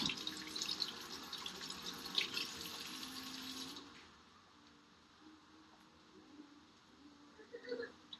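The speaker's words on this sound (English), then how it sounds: "Let me just wash my hands real quick because they're covered in garlic." Running tap water splashes over hands being washed clean of garlic in a home kitchen, a steady hiss for several seconds that then cuts off, leaving quiet room sound and a faint clatter.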